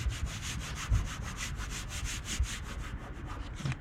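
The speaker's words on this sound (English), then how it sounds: "Rub it with your hand." Hand rubbing a vinyl decal onto a vehicle, making a rapid, steady run of close, soft scraping strokes that carries on for several seconds with no talking.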